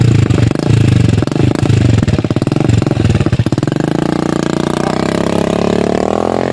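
A motorcycle's engine labors up a steep, muddy slope, its loud, close exhaust pulsing choppily before settling into a steady, climbing rev.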